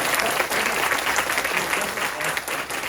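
Audience at a university career-planning lecture applauds warmly, a dense, steady wash of clapping from a room full of students that holds for several seconds without speech.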